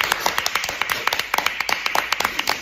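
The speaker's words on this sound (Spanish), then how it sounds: "quiero que le recibáis con un caluroso aplauso al doctor Sánchez" Warm welcoming applause from a small classroom group for a visiting doctor, a brisk patter of overlapping hand claps close by, sustained steadily throughout.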